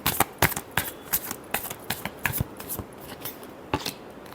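Tarot cards being shuffled by hand, a close run of crisp rhythmic snaps and riffles, about a dozen sharp flicks at an even pace, with no talk over them.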